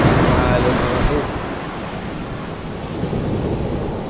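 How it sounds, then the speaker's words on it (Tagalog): Ocean surf rolling onto a beach, a loud continuous wash of breaking waves with rumbling wind buffeting the microphone. "Parang mahina yung alon."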